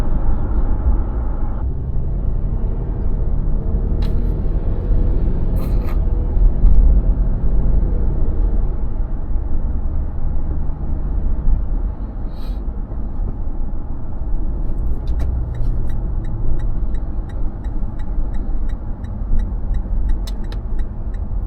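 Road noise from a Toyota Land Cruiser Prado on the move as it overtakes a Range Rover, a steady loud low rumble of engine and tyres throughout with a few faint ticks and clicks.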